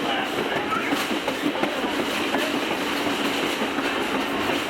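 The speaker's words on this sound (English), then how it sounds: "You can hear the jointed rail" Train wheels clack steadily over jointed rail on the Adirondack Scenic Railroad, a rumbling carriage ride with a continuous wash of rail noise and faint clicks as the train gathers speed.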